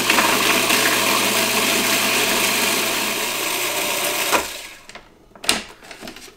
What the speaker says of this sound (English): we'll put it into the food processor and blitz it until we have a nice paste